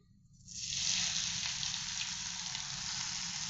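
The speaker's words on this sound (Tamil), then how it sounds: "இப்போ வந்து கிராம்பு சூடாகி கொஞ்ச நேரம் ஆகிறதுக்குள்ளே நம்ம இந்த அரைச்சி வச்சிருக்க இலையை போட்டுக்கலாம்" Ground aasubathi leaf paste drops into a pan of hot cloves. A sudden loud sizzle bursts in and holds steady and close, with no talking.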